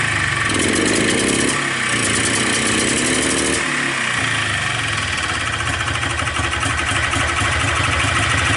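A Polaris Xplorer 250 ATV fitted with a Yamaha Blaster carburetor idles continuously, a dense, rough mechanical rumble with steady loudness and no voices throughout.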